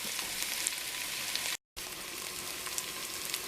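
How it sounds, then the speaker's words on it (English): Potatoes frying in a pot give a steady, bright crackling sizzle, continuous and close, broken by a brief moment of silence before resuming. "see how my potatoes have been frying in there?"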